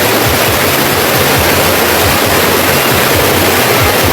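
Wang Kan Lueang waterfall in Lopburi, a popular spot where visitors swim, pouring as a loud, dense, unbroken rush of falling water filling the scene close by, with no voices.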